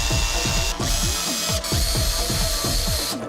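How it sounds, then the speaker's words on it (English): A tool drills three handmade art parts together, producing a rapid, rhythmic mechanical ratcheting and whirring that repeats steadily and loudly, with brief pauses in between. "I will combine the 3 parts that are made now to one part by drilling them together."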